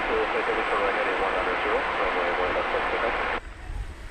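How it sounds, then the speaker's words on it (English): A four-year-old Qantas Boeing 787 Dreamliner at DFW Airport roars steadily at night, loud and continuous throughout, with the broad engine noise dropping sharply near the end. "Qantas Flight 8 to Sydney, 7879 Dreamliner. It's a 4-year-old plane."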